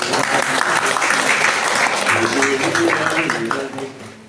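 Audience at a poetry session with students, led by a noted Marathi poet, breaks into steady sustained applause after a poem recitation, loud and continuous, then tapering off near the end.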